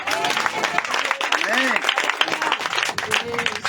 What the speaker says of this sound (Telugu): గట్టిగా స్తోత్రం చెప్పండి, చప్పట్లు కొట్టండి.